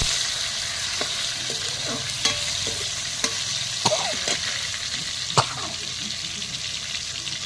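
Steady frying sizzle of chopped tomatoes added to hot oil with fried potatoes fills the clip, with occasional sharp clinks and scrapes of a utensil stirring the pan.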